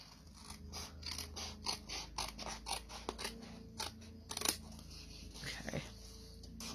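Scissors snip repeatedly through paper pieces for a Christmas box, a quick series of sharp crisp cuts with small pauses, close and fairly faint, no talk.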